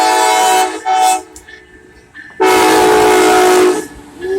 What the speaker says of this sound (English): Ooh, that's a loud horn.